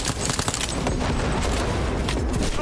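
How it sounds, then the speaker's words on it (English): Gunfire in the video game Cyberpunk 2077, a dense loud fusillade of rapid shots and bursts, near and continuous across the whole stretch. "Oh, was I not supposed to start shooting?"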